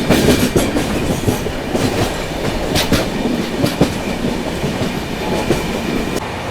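Mumbai Rajdhani Express running at steady speed, a continuous dense rumble of wheels and carriage noise with faint clickety-clack rail joints and occasional sharper clanks, heard from onboard and close.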